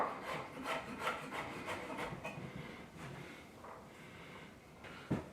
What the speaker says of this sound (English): Trying to use the back of the knife as a scraper,